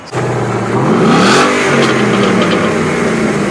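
Ford Mustang EcoBoost with a 2.3-liter turbocharged inline-four revving loudly up close, the engine note climbing and falling once before settling into a steady drone.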